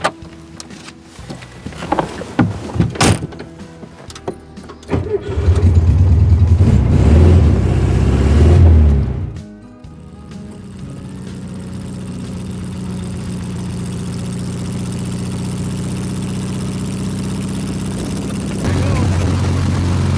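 A 1967 Volkswagen Beetle engine cranks and catches with a loud, low rumble, then settles into a steady, throaty idle that carries on to the end.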